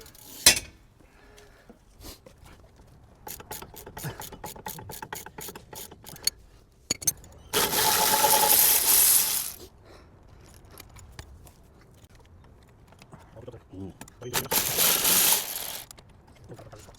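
A hand ratchet wrench cracks loose the lower suspension bolt on a Toyota Celica, giving rapid runs of clicking in bursts, with two longer hissing air-tool-like blasts between them in a workshop.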